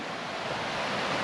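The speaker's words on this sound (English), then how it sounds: "More waterfalls up here" Small waterfalls on a bush track rush steadily, a broad continuous hiss of falling water close by, with no voices.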